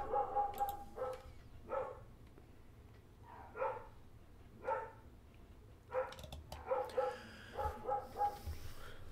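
A dog barks in bursts, a series of clear, moderately close barks and yips with uneven gaps, growing more frequent toward the end over a low background hum.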